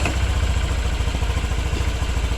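Honda Vario 125/150 scooter engine just after starting, idling with a steady low mechanical chug and light clatter, close and continuous with no talking.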